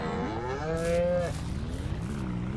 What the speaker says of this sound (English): There's a bull here.